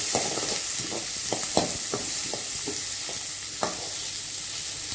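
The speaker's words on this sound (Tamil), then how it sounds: "அது கூட பொடியாக கட் பண்ணி வச்ச பெரிய வெங்காயத்தையும் சேர்த்துக்கலாம். இதை லேசாக வதக்கிக்கலாம்." Chopped garlic and large onion sauté in hot oil for a tomato-onion relish, with a steady close sizzle and repeated sharp scrapes of a spoon stirring the pan, no voices.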